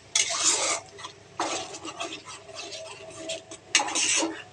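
Pointed gourd goes into spiced poppy seed paste frying in a pan, giving bursts of sizzling and spoon scraping against the pan. The bursts are close and moderately faint and come in several separate bouts.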